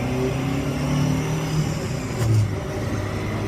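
A classic SAAB car engine hums steadily from inside while driving, a close, even drone with slight rises in revs and no talking.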